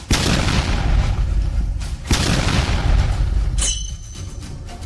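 A bomb explodes in a dramatized scene: two heavy, close booms about two seconds apart, each with a rumbling low roar that lingers before a brief high ringing at the end, with no talking.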